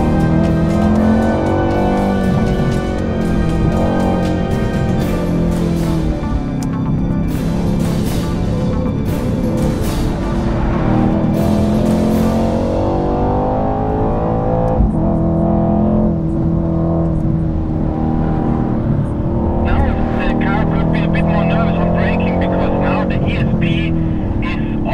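A 2019 Mercedes-AMG C63 with ESP switched off drives a track at Bilster Berg, its engine revving loud and close through gear changes and rising and falling as it accelerates, with a voice talking over the engine throughout.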